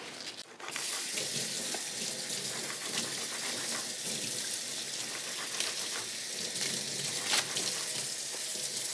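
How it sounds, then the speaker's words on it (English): Kitchen tap water runs steadily into a sink while leaves are rinsed, a loud continuous splashing hiss with small spattering changes and no talking. "I think I'm gonna wash all of these and then peel them off the stems."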